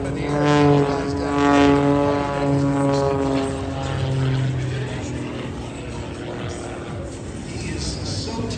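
A Red Bull Air Force aerobatic propeller airplane performing at the Miramar airshow, its engine droning loud and steady with rising and falling pitch as it passes, while people talk close by.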